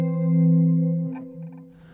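A major seventh chord on guitar sustains smoothly for about a second with light chorus and reverb, then a few softer notes follow, played alone.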